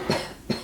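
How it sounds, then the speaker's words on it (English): A woman coughs twice, short and close, during a pelvic floor assessment, the two bursts about half a second apart and fairly quiet. "Cough for me, please."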